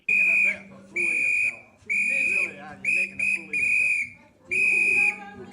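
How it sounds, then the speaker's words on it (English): A whistle blown hard in a rapid series of loud, shrill blasts, short and long, during a heated street confrontation, with faint background voices between bursts. "Take the whistle off her."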